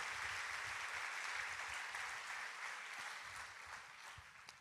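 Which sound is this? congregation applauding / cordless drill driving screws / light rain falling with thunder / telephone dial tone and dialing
congregation applauding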